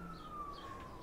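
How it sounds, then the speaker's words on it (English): A distant siren in the video game Borderlands 2, a thin rising and falling wail sitting faintly in the background of a brief, quiet stretch with no talk. "Siren in the background."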